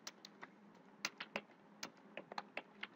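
A computer keyboard is typed on at moderate speed during an HTML lesson, giving a string of distinct close key clicks in an irregular rhythm over a faint steady room hum.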